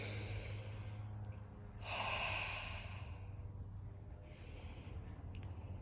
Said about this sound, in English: So at least 3 breaths here.